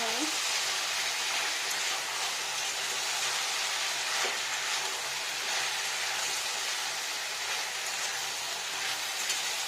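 Mustard paste frying in a pan for a vegetarian Bengali lunch, a steady broadband sizzle with a faint click partway through, holding even throughout with no talk.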